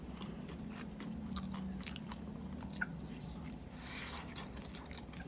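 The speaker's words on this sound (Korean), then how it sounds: "튀김 진짜 바삭하다." Someone bites into crispy Korean fried food indoors and chews it close to the microphone; a few crunchy bites and soft chewing sounds come through faintly over a quiet room hum.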